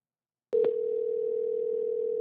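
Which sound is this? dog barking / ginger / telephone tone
telephone tone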